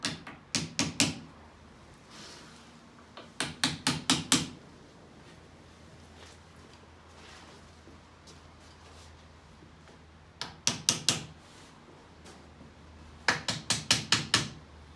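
A hammer drives pieces of a Quilpo leather sling chair into place against a small block, heard as four short bursts of four or five quick, crisp taps separated by quiet pauses.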